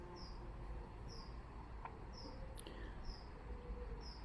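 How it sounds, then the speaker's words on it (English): Finches chirp faintly outdoors in a quiet setting, with short high tweets repeating roughly every second over a low background hum and no speech. "The finches, them, you know."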